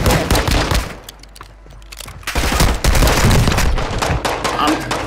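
Rapid video game gunfire aimed at an enemy, dense bursts of automatic shots and booms, loud and close, easing briefly then returning in heavy volleys.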